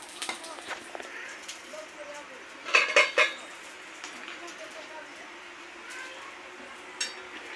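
Crumbled flatbread being mixed by hand in a dish, with light clinks of utensils against the plate and a brief burst of louder clattering midway, heard close under faint background voices.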